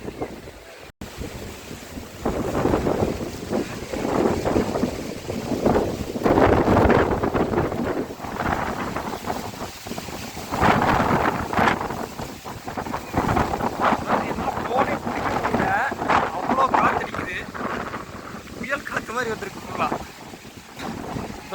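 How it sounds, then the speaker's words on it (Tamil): Strong wind gusts buffet the microphone at Aliyar Dam in Pollachi, a steady, loud roar with rushing surges near water, and a person talks over it throughout. "சரியான காற்றடிக்கும்"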